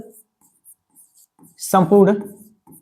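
Marker or chalk writes on a board during a Class 12 physics lesson on electric charges and fields, leaving faint short scratches and ticks around a male teacher's speech.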